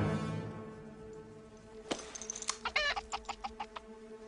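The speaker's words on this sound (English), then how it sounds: "Chicken?" A chicken clucks in a quick run of short, sharp notes that rise over a low background hum, fairly close and with no talk.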